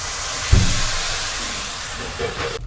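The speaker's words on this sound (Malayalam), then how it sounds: "ഇനി ഇതിൻ്റെ അകത്തേക്ക് കുറച്ച് വെളിച്ചെണ്ണ ഒഴിക്കണം." Coconut oil poured onto a wilted banana leaf set in a hot pan gives a steady sizzling hiss throughout, with one soft low thump near the start.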